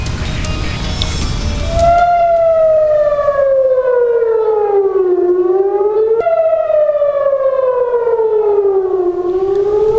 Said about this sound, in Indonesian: Warga Israel menuju tempat berlindung saat suara sirine memecah sunyi di kota Tel Aviv pada Senin malam.